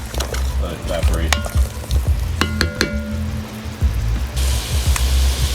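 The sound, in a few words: Marsala braising liquid with beef ribs simmering and reducing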